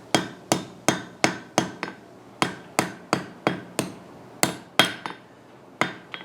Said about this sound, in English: we got ourselves a good welding heat. I'm going to make that first initial weld right there